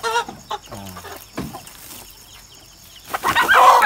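Chickens at a backyard farm in a rural province cluck in short bursts, some near and some farther off, with a louder flurry of clucking toward the end.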